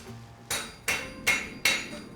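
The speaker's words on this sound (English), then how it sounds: "the sound of the hammer and anvil still rings true" A farrier's hammer strikes an anvil on a farm in West Wicklow, Ireland, ringing out in four sharp, evenly spaced metallic blows, each with a bright ringing decay, with no voices.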